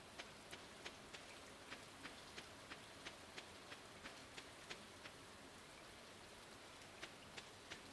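Green rain falling in Stardew Valley, a soft steady patter of rainfall with faint, evenly spaced drop ticks over a quiet, continuous background hiss.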